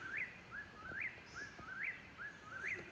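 A whip-poor-will repeats its rising, whistled three-part call several times in a steady rhythm, clear over a quiet background.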